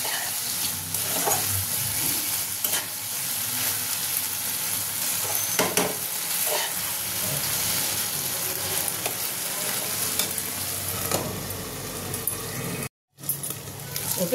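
Dried Bombay duck fish and melted tomato sizzle in a pan for a shutki bhorta while a utensil stirs and scrapes, giving a steady frying crackle with intermittent clinks and knocks throughout.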